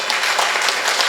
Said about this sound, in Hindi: एक बार पुरजोर तालियां बजा दें